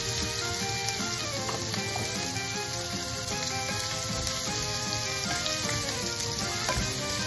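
Carrots stir-frying in a pan with shrimp to follow, a vigorous close sizzle and crackle with steady spatter and occasional stirring clinks, no speech.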